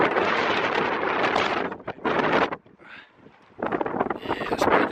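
Strong wind buffets the microphone in an outdoor garden, a loud roaring rumble in long gusts that briefly drops away once before surging back. A person talks under it.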